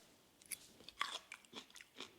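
Someone bites into and chews crunchy pickled silver onions from a German supermarket. Several sharp, close crunches come in quick succession over about two seconds, quiet overall.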